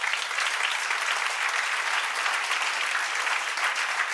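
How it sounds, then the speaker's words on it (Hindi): An audience applauding a physics teacher: dense, loud, steady clapping with no pauses, filling about four seconds on its own. "ताली बजा दो सर की वजह से"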